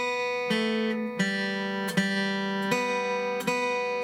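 A guitar plays the melody of Will the Circle Be Unbroken in even, sustained quarter notes, each one plucked cleanly and ringing into the next, close and fairly loud.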